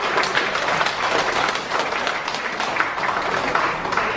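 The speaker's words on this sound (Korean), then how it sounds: "박수해 주셨습니다." Steady applause fills a wedding ceremony hall, a dense crowd clapping continuously at an even volume from start to finish.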